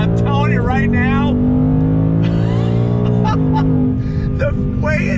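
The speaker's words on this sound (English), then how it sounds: "We're in the Mustang GT Performance Pack Level 1 on throttle at 10 speed." A 2020 Ford Mustang GT Performance Pack Level 1 with a 10-speed automatic accelerates under throttle, its engine drone rising and dropping with quick gear shifts from inside the cabin while someone talks over it.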